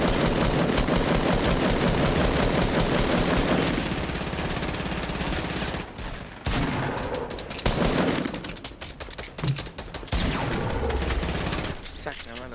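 Gunfire in the video game PUBG: repeated rapid automatic bursts and single shots, loud and close, with pauses between volleys and voices talking over the action.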